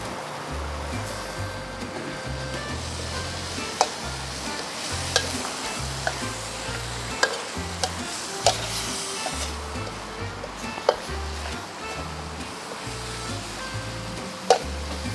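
Holy basil with sauce stir-frying in a hot pan, giving a steady loud sizzle with rhythmic scraping and stirring strokes and occasional sharp clinks of the utensil.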